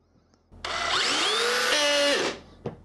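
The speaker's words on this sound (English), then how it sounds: "drive one in on the lightest setting, on the smallest battery, on a smaller torque DeWalt" A DeWalt drill on its lightest torque setting with the smallest battery drives a screw into wood, one brief whirring burst that rises in pitch, holds for under two seconds, then winds down, followed by a small click.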